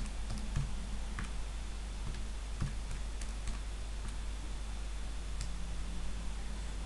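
Scattered light plastic clicks of calculator buttons being pressed, a few quick taps spaced irregularly over low steady room hum, close and quiet with no talking.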